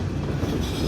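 Grain train rolling along a rail siding in Indiana or western Kentucky, a steady close rumble of railcars with a low droning hum and wind buffeting the microphone.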